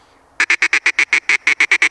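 A duck call blown in a fast run of about thirteen sharp, evenly spaced nasal quacks, loud and close, with no talking over it.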